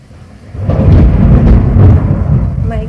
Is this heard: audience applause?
no